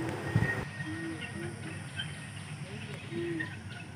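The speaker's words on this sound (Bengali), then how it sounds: "ওই দেখো টয় ট্রেন আসছে" A toy train runs in a park, heard as a soft, distant rumble with faint rail noise, while voices murmur nearby.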